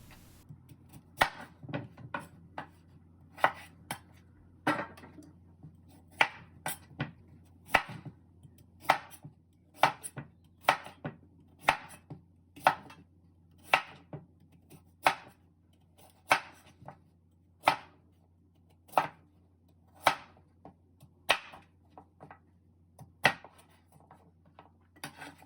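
Knife chopping bad spots off sweet potatoes on a cutting board, a long series of sharp, evenly spaced knocks about one per second, close and clear over a low steady hum, no talking.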